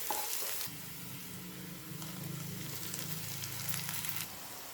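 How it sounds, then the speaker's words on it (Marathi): Onion sautéing in oil in a pan, a close, even sizzle with soft stirring scrapes that runs steadily throughout, slightly louder at the start, without any talking. "आता कांदा हा परतून झालेला आहे त्याचा फक्त वास गेला पाहिजे एवढाच परतायचा आहे"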